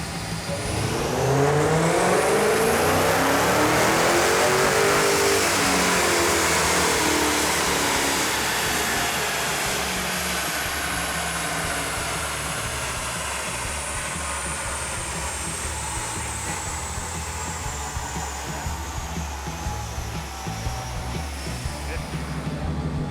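A high-horsepower Dodge car blasts off with a surging, rising engine roar that climbs in pitch, then settles into a long steady drone as it runs on, with faint voices in the background.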